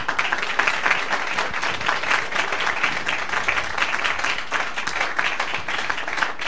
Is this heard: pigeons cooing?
no